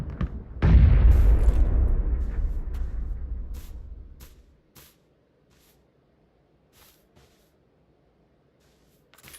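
A single loud gunshot booms out in the battle royale game PUBG as a headshot lands, its blast decaying over several seconds into quiet with a few faint clicks afterward.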